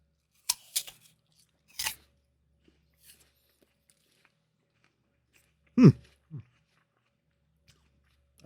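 A few crisp bites and crunches into a Cosmic Crisp apple come in short, separate bursts with quiet gaps between them, close and fairly clear.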